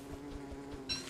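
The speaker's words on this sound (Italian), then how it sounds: "Ecco l'ape." A bee buzzes in the video game Don't Starve, a faint, steady insect drone that holds through the moment and swells slightly near the end.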